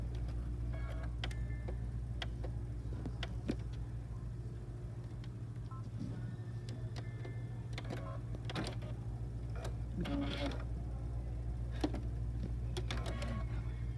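A sewing machine stitches across the end of a piece of white fabric in dark brown thread, its steady mechanical whir running close and continuous beneath occasional ticks and clicks.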